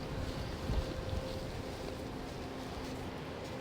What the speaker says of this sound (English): it's just so windy right now.